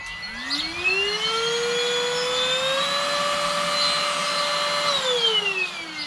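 A MOOSOO XL-618A 4-in-1 cordless battery stick vacuum runs alone, its motor whine rising as it spins up, holding a steady loud drone for several seconds, then winding down.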